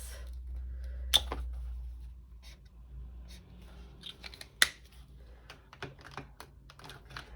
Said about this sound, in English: Let's use some highlighters.